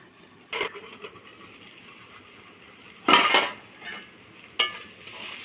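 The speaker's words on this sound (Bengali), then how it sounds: "সবজিটা আমার ভালো করে ভাজা ভাজা হয়ে গেছে" Vegetables seasoned with salt and turmeric fry in a pan with a low, steady sizzle, broken by three or four loud scraping bursts as a spatula stirs them.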